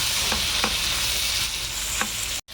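Chopped tomato sautéed with spices in a pan for masala prawns, a loud dense sizzle with rhythmic stirring scrapes, cut off abruptly near the end, no speech.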